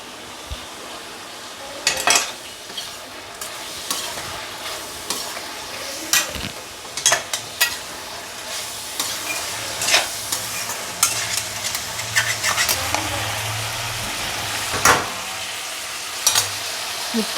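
Chicken frying in a pan with turmeric powder, for chilli chicken, a steady close sizzle running throughout, broken by repeated scraping and clinking strokes of a spoon stirring against the pan.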